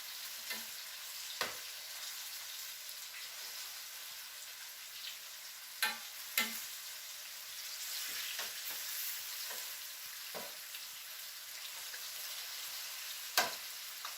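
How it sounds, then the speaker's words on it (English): Oil hisses and crackles steadily as red chile fried chicken cooks in a crowded pan, with occasional sharp pops and spatters over the constant sizzle. "you can see that the chicken is frying well, and it's pretty crowded"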